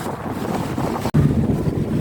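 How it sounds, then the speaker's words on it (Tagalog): Strong wind buffets the microphone in a steady low roar, with a brief dropout near the middle before the gusting resumes. "Ang hangin. Sobrang hangin mga friendship."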